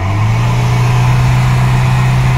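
A 2019 Maruti Ertiga 1.5 L diesel ZDi engine runs with a loud, close, steady low drone, held at an even pitch throughout with no voices.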